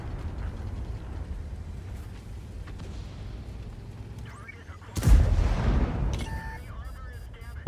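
A tank gun fires once with a loud, sharp boom in the World of Tanks game, rising over a steady rumble of engine and battle noise, then trailing off into a ringing echo.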